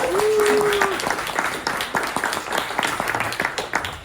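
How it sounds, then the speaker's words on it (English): A debate audience applauds the affirmative team at a comedy debate, a steady patter of clapping from a crowd lasting several seconds, with faint voices mixed in beneath it. "Give them a round of applause."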